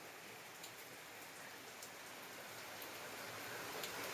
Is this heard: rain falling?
yes